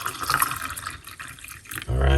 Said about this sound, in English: let's pour it out